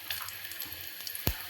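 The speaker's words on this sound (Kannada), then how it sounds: "ಒಂದು ನಿಮಿಷ ಇದೆಲ್ಲ ಸ್ವಲ್ಪ ಎಣ್ಣೆಯಲ್ಲಿ ಫ್ರೈ ಆಗಲಿ" Onions, green chilli and peas frying in oil in a pan, giving a faint, steady low sizzle with a sharp clank of a utensil near the end.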